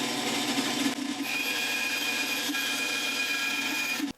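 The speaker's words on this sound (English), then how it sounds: "and then we'll sand back a little bit." A steady, close power-tool whir sands a homemade soft plastic crappie minnow lure, holding an even drone before stopping abruptly.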